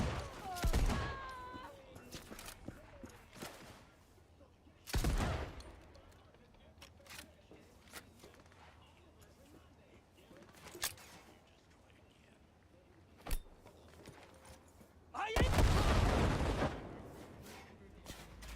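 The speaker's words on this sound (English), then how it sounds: "Where are they shooting me from now?" Gunfire aimed at the player in the video game Cyberpunk 2077, sharp bursts and single shots at intervals, some loud and clustered, others faint, separated by quiet game ambience.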